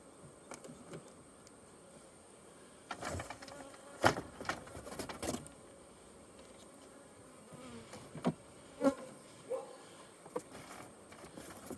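Honeybees buzz around close by during a honey super inspection, with intermittent louder passes and soft clicks and knocks in a quiet setting.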